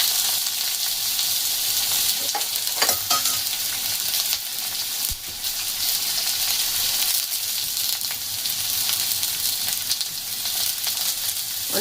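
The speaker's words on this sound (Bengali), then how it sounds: "এগুলোকে একটু বেশ ভালো করে ভেজে নেব।" Chopped carrots and capsicum frying in a pan, a steady close sizzle with occasional stirring scrapes throughout.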